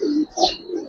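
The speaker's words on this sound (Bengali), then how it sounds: "মাদিটা হচ্ছে ভাই সিলভার লাইনের কবুতর, অনেক সুন্দর একটা মাদি।" Giribaz pigeons, including a silver-line hen, coo in low, soft, rolling phrases close by, with a brief higher call in between and no talk.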